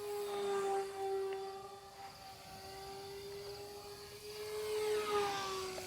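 An FMS Ranger 850mm RC plane with a brushless motor makes a full-speed pass, its steady high-pitched electric whine heard from a distance, shifting in pitch as it goes by.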